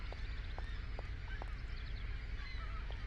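Geese honk in the video game Syberia on Nintendo Switch, a scatter of short, fairly faint calls spread over a steady low ambient rumble, with no talking.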